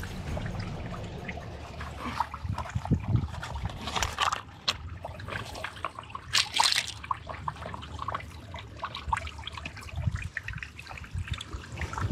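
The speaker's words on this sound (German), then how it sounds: "Wasser, Wasser, Wasser." Water trickles and splashes steadily in an idyllic wild outdoor setting, with irregular gurgles, drips and small splashes close by, plus occasional handling noises and no voices.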